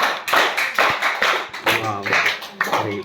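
Audience clapping for a girl named Rupali at a gathering, bursts of hand claps mixed with talking voices over about three seconds.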